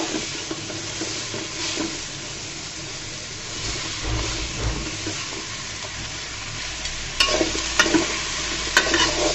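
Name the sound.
stirring snake gourd with spices in a pan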